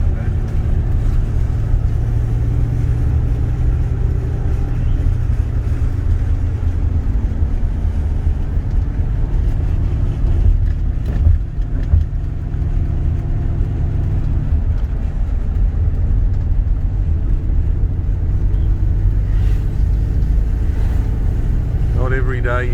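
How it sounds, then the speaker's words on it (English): A 1969 Ford Falcon XW GT Silver Fox on the move, its engine droning steadily with a deep rumble and some wind noise, faint voices occasionally heard over the cabin drone. "Not every day you get to go for a drive in a Silver Fox XW GT."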